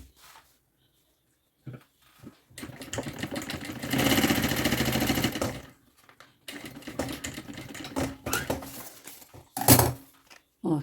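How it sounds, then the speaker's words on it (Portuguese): A sewing machine backstitches a seam on a fabric travel organizer kit, running in several short, fairly quiet mechanical bursts separated by pauses and handling clicks. "Aqui também eu posso rebater a costura"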